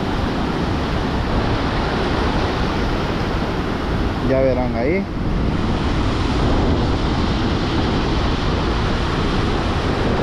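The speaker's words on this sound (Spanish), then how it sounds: "Ya les voy a grabar aquí para que vean las olas que se arman" Ocean surf breaks along the shore where someone is fishing, a steady broad wash of waves and wind that stays constant throughout, with a short spoken remark in the middle.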